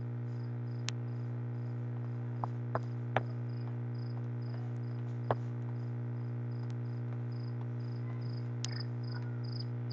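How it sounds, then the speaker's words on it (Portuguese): A cricket chirps in short, evenly spaced bursts over a steady low electrical hum, with a few faint clicks scattered through the quiet background. "Grilo! Onde está o grilo?"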